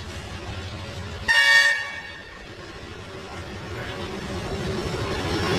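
A children's toy train gives one short, bright toot near the start, then runs on with a low continuous rolling rumble that grows slightly louder toward the end.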